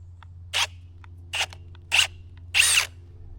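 A power drill runs in four short bursts, each under a second, with pauses between them and a steady low hum underneath throughout.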